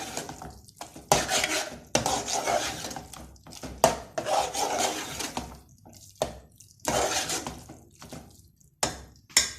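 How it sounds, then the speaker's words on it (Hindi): Minced meat and gram flour are roasted in a pan with a spoon stirred continuously, rhythmic scraping and rasping strokes in bursts with brief pauses, close and fairly loud. "चमचा चलाते रहना है, मुसलसल कंटिन्यूसली इसको भूनना है"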